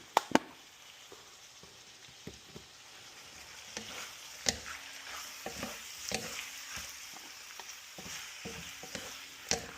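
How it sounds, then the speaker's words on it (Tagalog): Pork loin fried rice is stirred in a hot pan with pepper, giving a soft continuous sizzle punctuated by sharp scraping taps of the spatula against the pan, close and alone. "habang sinasangkot siya natin ng pepper"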